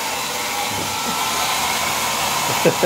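A hair dryer blows steadily with a constant broadband whoosh, close and fairly loud, with a couple of brief bumps near the end.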